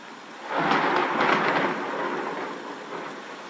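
Heavy rain pours in a dense continuous hiss while a deep roll of thunder swells up and slowly fades beneath it, with no voices.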